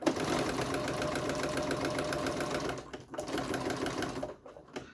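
A sewing machine stitches fabric for a zippered taco bag in a fast, even mechanical chatter, close up, then stops briefly and runs again before halting near the end.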